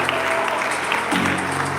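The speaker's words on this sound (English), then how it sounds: "a round of applause again" Audience applause at an academic lecture event, a dense, steady wash of clapping from a crowd lasting under two seconds, with no talk over it.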